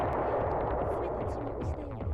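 Bombs going off in the PS1 game Silent Bomber, a dense, loud stretch of overlapping blasts and crackling booms that keeps up without a break for about two seconds.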